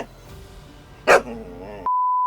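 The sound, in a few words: dog barking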